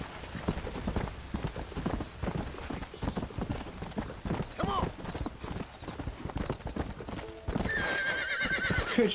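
Horse hooves clip-clopping at a gallop with a whinny midway in the video game Red Dead Redemption, rhythmic and close, with a player talking over it and a brighter game effect near the end.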